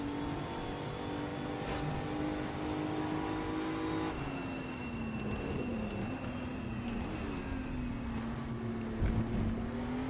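A Group 5 race car engine in a VR racing game drones at a steady high pitch as the driver feathers the throttle, with the note dipping and shifting around the four-second mark before settling back, continuous and loud with no talking.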